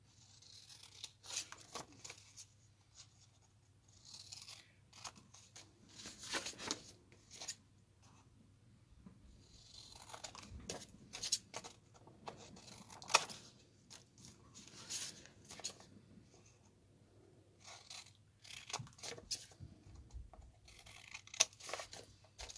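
Scissors snip paper pieces for handmade Christmas cards in a quiet room, producing faint, irregular clusters of close cutting sounds with short pauses between them.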